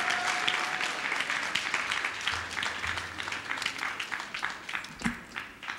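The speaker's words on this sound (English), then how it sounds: "Can you clap for Master Jesus?" Worshippers clap for a healed man at a church deliverance service, a sustained burst of many hands that gradually thins and softens, with a faint voice surfacing briefly near the end.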